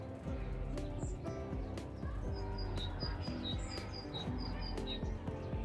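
Birds chirp repeatedly in quick high tweets, a lively series of calls in the middle, over a low rumbling outdoor background with occasional clattering.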